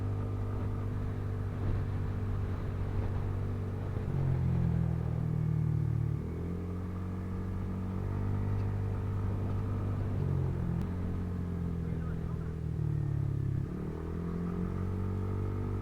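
An enduro motorcycle on a long-distance endurance ride through sand in Pangasinan drones steadily with a loud, close engine note, rising and falling as the rider works the throttle, with no talking.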